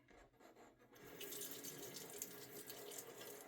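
Water runs steadily from a tap into a bowl for shaving lather, a broad hiss that swells after a quiet first second and then holds at a close, even level with no voices.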